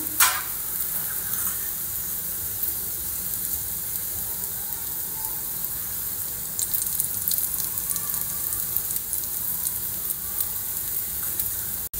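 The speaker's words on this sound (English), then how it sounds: "just flip it over again and cook on the other side too" Thalipeeth flatbread sizzles in oil on a hot pan right after being flipped, a steady close crackling fry with a brief scrape at the start and light spattering bursts partway through.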